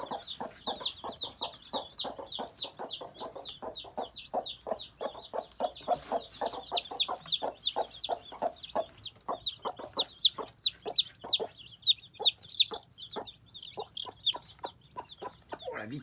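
Hens and their chicks make a busy mix of sounds close by: steady rapid clucking from the hens under a constant stream of high chick peeps, rising into louder bursts of clucks near the end.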